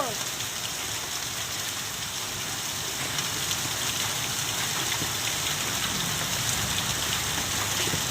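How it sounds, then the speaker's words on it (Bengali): Heavy rain mixed with large hailstones falls on a street, a dense, steady wash of patter and small impacts continuing unbroken throughout at close range, with no voices. "বৃষ্টি আর শিলা বৃষ্টি হচ্ছে, সিল পড়ে যাচ্ছে"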